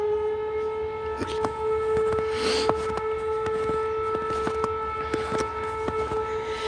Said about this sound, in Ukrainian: Лунає повітряна тривога зараз.